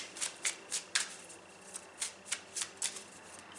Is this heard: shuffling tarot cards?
yes